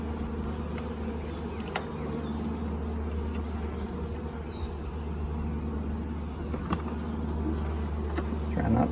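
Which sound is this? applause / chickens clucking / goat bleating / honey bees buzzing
honey bees buzzing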